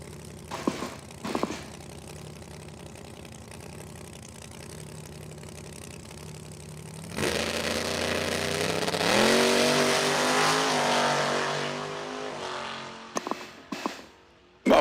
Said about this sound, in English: 63 Corvette. Big inch BBC.